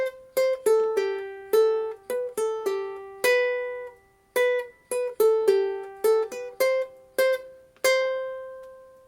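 Fingerpicked guitar melody plays alone, close and clear, with single plucked notes in an uneven rhythm, each ringing and decaying before the next, with short pauses between phrases.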